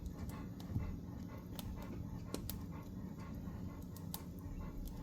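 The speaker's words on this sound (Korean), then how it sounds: "장작 타는 소리보다 네 숨소리가 더 큰 것 같아." A Labrador retriever pants rhythmically and close beside a crackling wood fire at a mountain lodge, its quick breaths steady over the low fire noise, with occasional sharp pops from the burning logs.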